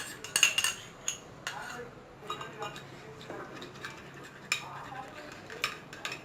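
Yogurt is whisked in a bowl while making broast sauce, producing quick, irregular clicks and scrapes of utensil on dish. The sounds are close and fairly quiet, with a few brighter clinks poking out.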